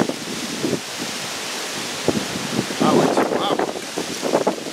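Strong outdoor wind roars and buffets the microphone in a steady broadband rush, swelling in louder gusts toward the end.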